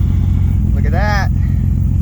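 A Nissan R32 GT-R engine with an R35 coil kit idles with a steady low rumble throughout; a brief higher voice-like tone rises over it midway.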